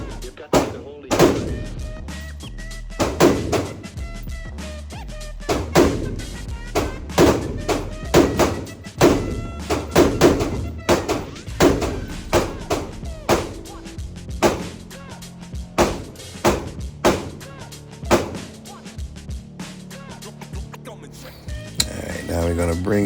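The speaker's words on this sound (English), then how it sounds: "So enjoy the shooting." A 5.56 NATO rifle and a Taurus G3C .40 pistol fire at an outdoor range, a long series of sharp, loud shots at an irregular pace, some in quick bunches and others spaced apart.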